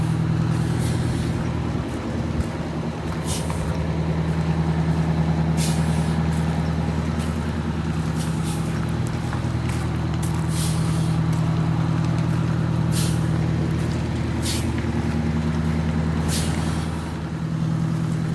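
Air brakes on a Wanderlodge bus being pumped repeatedly, sharp hissing bursts at irregular intervals over a steady low engine idle, with no talking.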